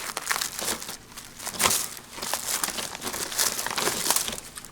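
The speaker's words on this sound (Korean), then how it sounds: "자, 비닐되어 있는 걸 풀러서" Plastic wrapping crinkles and rustles as it is pulled off a 25 kg sack of 99.9% pure JADAM sulfur, in close, uneven bursts of crackling over several seconds.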